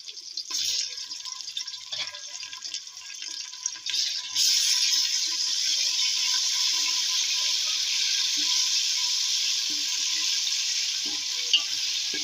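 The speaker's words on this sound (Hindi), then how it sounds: "सबसे पहले हम लोग प्याज डालेंगे गरम ऑयल में" Onions sizzle steadily in hot oil for chicken nihari, a bright, continuous frying crackle that swells louder after a few seconds and holds close and even throughout, with no talking.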